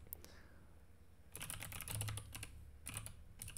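Computer keyboard typing during Vim coding, a quiet stretch followed by bursts of close, crisp key clicks in quick irregular rhythm, with no talking.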